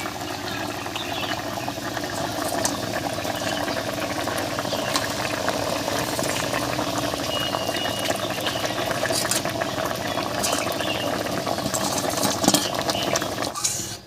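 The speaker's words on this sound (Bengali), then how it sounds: "বেশ কিছুক্ষণ রান্না করে নিয়েছি ঝোলটা বলক উঠে গেছে" A pot of curry broth bubbles and simmers steadily, a close continuous rumbling boil with faint clinks, ending abruptly.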